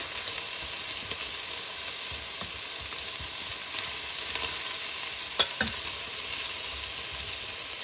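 Onion fries in rendered bacon fat in a pan, giving a steady, loud close sizzle with occasional stirring scrapes and faint pops throughout, no voices.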